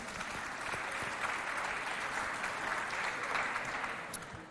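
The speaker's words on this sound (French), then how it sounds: "Applaudissez pour elle, s'il vous plaît." Studio audience on a Chadian television variety show applauding steadily, a dense wash of many hands clapping at once, held at an even level before easing off at the end.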